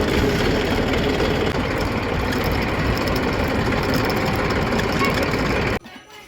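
A tractor engine idles on a farm in a steady, loud, low chugging drone that runs unbroken until it cuts away near the end.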